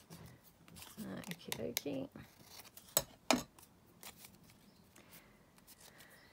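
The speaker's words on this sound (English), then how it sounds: "And then just cut my corners." Scissors snip the corners of paper, a few short crisp cuts and clicks heard close and faint while someone speaks softly in between.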